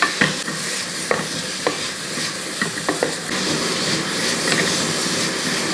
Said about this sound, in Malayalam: അപ്പോൾ ഈ സവോളയൊക്കെ ഒന്ന് നല്ലപോലെ ഒന്ന് വഴറ്റിയെടുക്കും.